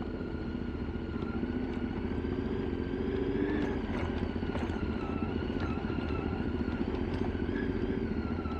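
CLX700 motorcycles ride a muddy, rocky mountain road in Mindoro near Puerto Galera. Their engines hold a steady, close drone for the whole stretch, with light clatter over it and no talk.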